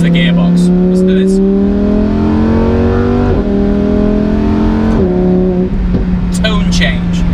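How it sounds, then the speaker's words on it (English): A Lamborghini Huracan Performante accelerates hard, its twin-clutch gearbox firing quick upshifts: loud rising engine tone drops sharply at each change, with crackles on the overrun, while someone talks over it. "One thing Lambo have absolutely nailed with this car is the gearbox."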